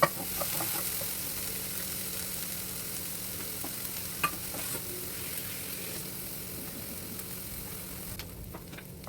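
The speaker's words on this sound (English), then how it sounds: "Heat butter in a pan over medium flame. Once it's hot, add the chopped onions and sauté." Chopped onions and green chillies sauté in hot butter in a pan over a medium flame, giving a steady, even sizzle and frying hiss with faint stirring clicks throughout and no voices.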